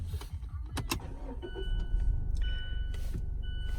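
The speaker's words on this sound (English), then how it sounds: "let's say I take the car out of accessory mode and actually start it" A Mazda car is started from accessory mode: chimes and clicks come first, then the engine turns over and settles into a low, steady idle, with electronic beep tones sounding over it.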